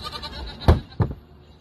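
Goat at a farm animal sanctuary bleating two short loud calls in quick succession, close up over quiet background noise.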